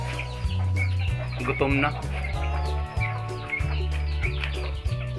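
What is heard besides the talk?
pet gamecock clucking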